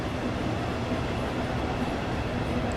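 An electric commuter train rolls into a station platform in the Train Sim World 5 railway simulator on the Southeastern high speed route, a steady, close rumble of wheels and carriages with no break.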